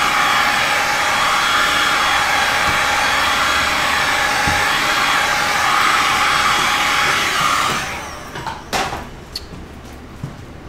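A heat tool blows steadily over a resin ocean pour, a loud continuous airy roar lasting about eight seconds before cutting off, leaving a few faint clicks and knocks.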